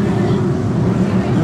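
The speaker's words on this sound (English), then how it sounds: "The engine is setting into rev." BriSCA F1 stock car engines rev together on the Coventry track before the final gets under way, a loud, continuous low roar that holds steady throughout.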